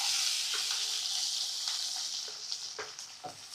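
Small shallots sauté in a pan for a simple chicken curry with a loud, bright, continuous sizzle that fades slightly, broken by a few faint stirring scrapes and taps toward the end.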